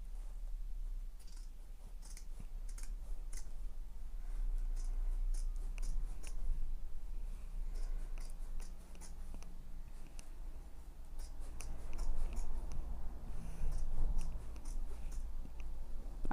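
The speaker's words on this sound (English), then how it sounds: "More exciting than trimming the stabilizers away." Scissors snip through embroidery stabilizer trimmed from a stitched open top tote, a steady run of small close cuts and rustling that continues throughout at a quiet level.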